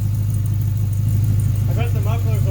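A Chevy Colorado with new stainless exhaust mufflers idles steadily with a low, even rumble, and people talk over it toward the end.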